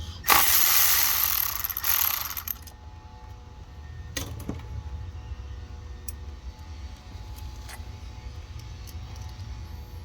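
A ratchet with a 12 mm socket clicks away at one of two bolts on a Lexus SC430 during a starter and knock sensor replacement, a loud rapid burst at first, then a few scattered clicks over a low steady hum.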